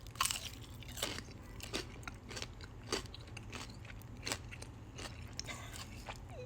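Crunchy chicken tender dipped in honey mustard bitten and chewed up close, a run of sharp crisp crunches spaced every second or so over a steady low restaurant hum.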